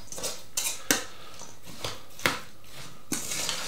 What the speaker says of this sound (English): Just going to give this a big stir